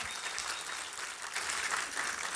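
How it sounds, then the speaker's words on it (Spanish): A church congregation applauds during a Spanish-language sermon service, a continuous wash of many hands clapping, even and fairly distant. "vamos a darle un fuerte aplauso, que se sientan en casa."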